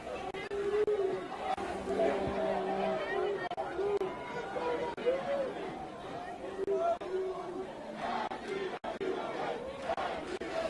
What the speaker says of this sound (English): The home crowd seems to be rallying behind the team as they chant, "I believe I will win."